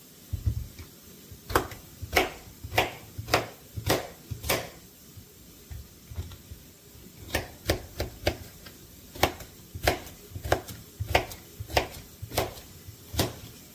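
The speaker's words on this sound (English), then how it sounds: "So I'm just going to be just roughly chopping this." A knife roughly chops zucchini on a plate in short uneven bursts of sharp taps, with brief pauses between runs; quiet room, no talking.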